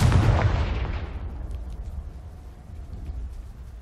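A Confringo blasting spell from Hogwarts Legacy detonates on a pile of debris, a loud deep explosion at the start that rolls off into a long rumbling, crumbling decay.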